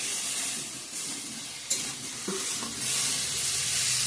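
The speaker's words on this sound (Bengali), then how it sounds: "ভালো করে এটা কষিয়ে নেব" Chili, coriander and cumin powders sautéing in a pan for an egg curry with potatoes, a constant loud hissing sizzle up close with a couple of brief stirring clinks, no voices.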